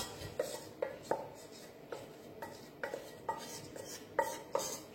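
Salmon and pre-cooked vegetables are sautéed in a pan, a utensil tapping and scraping against the metal in an irregular series of soft, quiet clinks.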